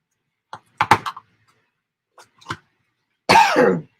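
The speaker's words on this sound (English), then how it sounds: "Damn this cough." Several separate coughs, short and sharp, followed by a longer, harsher cough near the end, with quiet gaps between.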